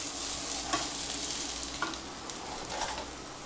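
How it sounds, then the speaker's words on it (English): Water boils quietly in a pot for pasta, a soft steady bubbling hiss with occasional small pops. "The water is boiling."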